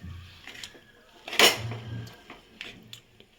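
A sticky mixture of dates and dry fruits is stirred in a pan, with scattered metal scrapes and knocks of a spoon against the pan, one sharper clatter standing out, close by and without speech.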